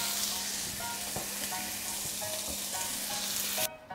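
Chopped onion hits preheated olive oil in a pan and sizzles steadily, with a continuous bright crackle and occasional spatters and stirring clicks, close and alone before cutting off near the end.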